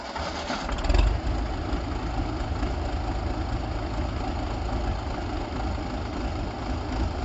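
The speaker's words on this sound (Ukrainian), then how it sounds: "перший запуск косарки" A lawn mower's small engine sputters to life after a short pull on its first start, then settles into a loud, steady idling rumble close by.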